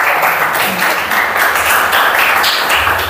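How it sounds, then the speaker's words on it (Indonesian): Students in a classroom applaud together in a steady, dense wash of clapping that runs unbroken for a few seconds, fairly loud and close. "Tepuk tangan lagi sekali untuk kalian."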